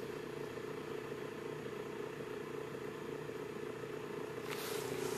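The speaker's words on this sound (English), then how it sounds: "It's a quiet little motor." A small Bedini motor runs quietly with a steady, even hum, a faint background drone that stays constant throughout with no voices over it.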